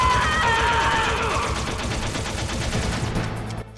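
Gunfire in the video game Metal Gear Solid, a dense, continuous volley of rapid shots that sits loud and close and then fades away near the end, with game voices mixed in.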